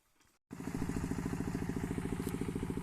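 A small farm tractor engine starts after a brief pause and runs steadily nearby, its loud, rhythmic chugging pulsing evenly, in a field where peanuts and potatoes are grown.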